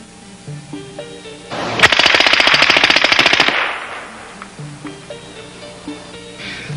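Rapid burst of suppressed 9mm automatic fire, a fast, even string of mechanical cracks lasting under two seconds, fairly close, with quieter ambient noise before and after.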